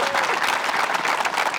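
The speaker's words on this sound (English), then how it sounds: "Can we put our hands together for Missy Gannon?" Steady applause from a gallery of spectators cheering a disc golfer at a professional disc golf world championship final, dense and continuous throughout, with a faint voice briefly audible beneath the clapping.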